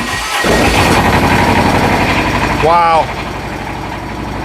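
A Kubota 15 horsepower diesel tractor engine, unused for over six months, runs at a steady close idle with a rough, continuous drone, and a brief exclamation from a person near the start.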